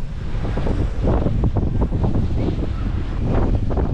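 Strong, gusty squall winds roar and buffet the microphone outdoors during a storm, loud and continuous with surging gusts.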